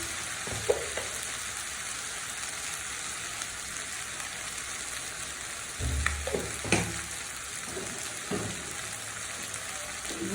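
Cumin seeds sizzling steadily in hot oil in a pan while a wedding-style mixed vegetable dish is cooked, with a continuous crackle, occasional louder pops and a few stirring scrapes, close up and with no talk.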